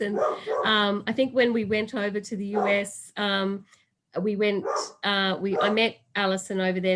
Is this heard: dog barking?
yes